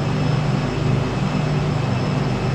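A WWII P-38J aircraft's engines drone steadily in the Prepar3D flight simulator, a loud continuous hum with a constant low throb and no change in level, heard alone.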